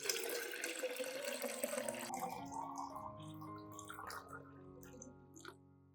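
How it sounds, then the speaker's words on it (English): Clean room-temperature water pours into a container to dilute an oat fertilizer solution, a rushing splash for about two seconds that gives way to quieter trickling and faint drips, heard close and fairly soft. "I will add 1 liter of clean water at room temperature to dilute the solution."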